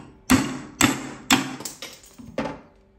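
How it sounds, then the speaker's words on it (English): A hammer strikes a urethane bushing in the upper control arm of a Club Car DS golf cart, five sharp metallic blows in an uneven rhythm, each ringing briefly before decaying, close and loud with no talk. "hammer it again"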